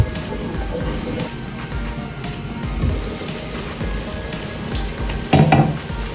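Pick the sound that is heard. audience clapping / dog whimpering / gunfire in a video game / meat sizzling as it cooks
meat sizzling as it cooks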